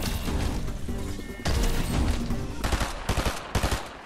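Sniper gunshots sound in a ranked video game match, a dense loud volley of cracks and booms followed by several distinct separate shots near the end, with no talking.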